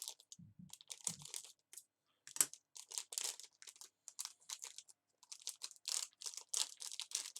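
Scissors snip through crinkly plastic blind-bag packaging in quick, irregular cuts, close and crisp, with rustling between snips.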